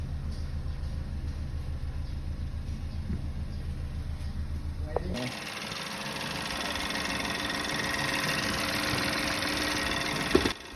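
Peugeot 3008 engine running just after being started: a rhythmic low idle throb, then a brighter, busier engine hum with a rattling edge takes over halfway through, steady and close.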